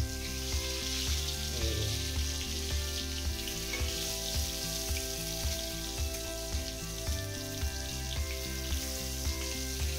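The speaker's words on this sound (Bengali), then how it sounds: "প্রথমে আমার বেগুনগুলোকে এখানে নুন আর হলুদ মাখিয়ে নিয়েছিলাম ধুয়ে, তারপর কড়াইতে তেল দিয়ে আর জাস্ট দিয়ে দিয়েছি" Eggplant slices coated in salt and turmeric fry in hot oil in a wok, giving a steady dense sizzle with small crackles and pops throughout, close and fairly quiet, with no talking.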